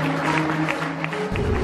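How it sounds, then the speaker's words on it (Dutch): Brief burst of audience applause at an awards ceremony, a continuous wash of clapping mixed with sustained tonal sound underneath. "We gaan je nog één keer een fantastisch applaus geven."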